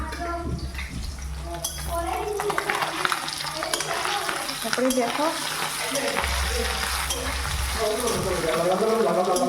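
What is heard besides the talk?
fish frying in a pan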